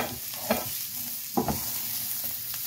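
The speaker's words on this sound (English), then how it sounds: "this is quick saute" Spicy beans sautéing in a hot pan give a constant hiss of sizzling, with a few brief stirring scrapes rising above the steady frying.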